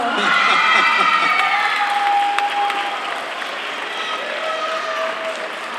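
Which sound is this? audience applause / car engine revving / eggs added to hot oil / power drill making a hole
audience applause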